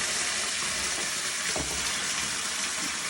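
Bolognese sauce sizzling in a hot pan, a dense continuous hiss with a brief clatter midway and no talking.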